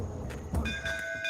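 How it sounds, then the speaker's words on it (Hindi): A bell rings out with a sustained, ringing tone over a low background rumble, fairly close and moderately loud. "घंटी बजी।"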